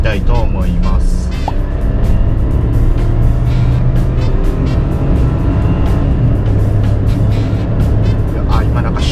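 A Suzuki Jimny XC (JB64W) turbo engine revs hard under acceleration in city traffic, a loud continuous drone rising in pitch from inside the cabin as the driver floors it.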